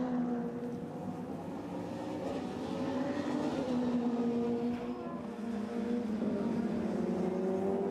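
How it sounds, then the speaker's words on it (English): WTCC touring race cars at Okayama circuit in Japan during a 2010 race, their engines droning steadily with rising and falling pitch, heard continuously from a distance with no talk. "Muller finds a way through past Priaulx for 6th."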